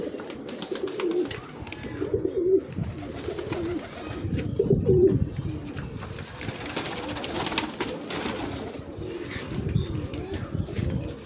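Pigeons coo repeatedly in low, throaty bursts, close by, with a steady wash of outdoor background noise throughout.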